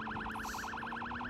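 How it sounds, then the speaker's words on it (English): A looping wailing siren from a vehicle in the zombie survival game Project Zomboid sweeps steadily up and down with no break, loud and close, over a low steady engine hum. "We need to change our siren up. That damn thing's annoying."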